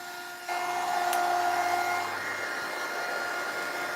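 A heat tool or dryer drying gesso on a bunny figure during a makeover gives off a steady, close whirring roar with a faint tonal whine. It runs without a break and has no talk over it.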